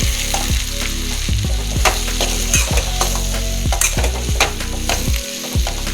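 Potatoes for a masala dosa filling are stirred in a hot pan, with a steady close sizzle and repeated scraping strokes of a spoon against the metal, and no voices.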